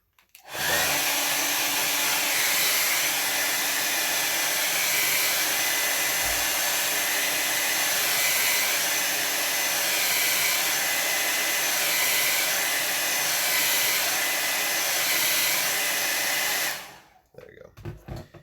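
Hair dryer aimed at a wet watercolor landscape painting, running loud and steady for about sixteen seconds with a constant airy whoosh before clicking off.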